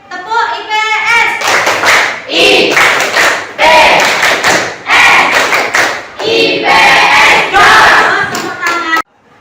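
A school class performs the Tepuk IPS clap chant led by a teacher, sung lines alternating with bursts of rhythmic group clapping in a patterned beat, loud and close, stopping abruptly at the end.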